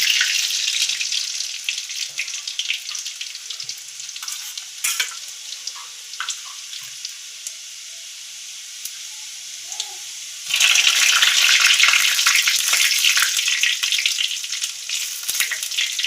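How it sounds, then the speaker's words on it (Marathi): Cumin seeds and garlic crackle in hot oil in a pan for a Khandeshi-style shev bombil dish. The steady hiss grows much louder and denser partway through, with no talking. "त्याच्यामध्ये मी आता जिरं फोडते आहे. लसूण टाकते आहे."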